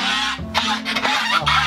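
Several geese honking and calling over one another at close range, harsh nasal cries overlapping without pause.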